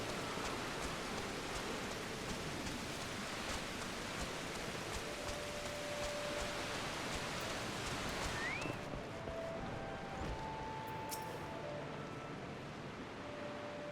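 Steady rain ambience from the video game Final Fantasy XIV: A Realm Reborn, a constant hiss of falling rain throughout, with faint tonal game sounds and chimes appearing briefly over it.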